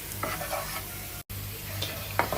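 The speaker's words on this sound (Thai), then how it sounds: "ผัดเจียวให้หอมๆเลยนะคะกระเทียมให้เหลืองๆ" Garlic frying and being stir-fried in a pan until golden, a steady close sizzle with stirring scrapes and a brief cut near the middle.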